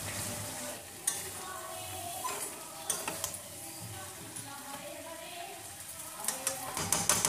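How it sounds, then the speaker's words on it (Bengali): Green jackfruit and potato being stir-fried with spices in a pan, giving a steady sizzle with scraping stirs and small ticking clinks throughout. "এবার আমি ইঁচড় আলুটা দিয়ে ভালো করে আরেকবার কষিয়ে নেবো"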